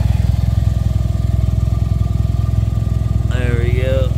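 Exhaust of a 2013 Hyundai Veloster Turbo with aftermarket exhaust and turbo mods idling, a steady close throbbing drone with a brief higher whine near the end.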